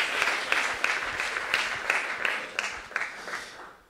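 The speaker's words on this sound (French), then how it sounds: "on peut applaudir le projet" An audience applauds a project pitch at an innovation day awards event, a steady crowd clapping with periodic swells that fades at the end, moderately distant.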